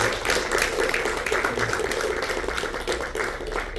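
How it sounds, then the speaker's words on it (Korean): Congregation at a group gathering of McAllen Korean Church applauding together, a steady dense wash of clapping hands sustained throughout without a break. "우리 감사하러 박수로 한번 감사하겠습니다"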